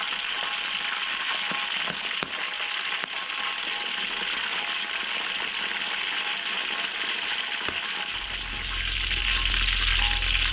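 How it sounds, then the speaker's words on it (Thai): Round chashu-style crispy pork with dried skin deep-frying in hot oil, a steady dense sizzle and crackle held close and loud throughout, swelling slightly near the end, with no talk. "เดี๋ยวเราทอดหมูกรอบของเรากันเลยครับ"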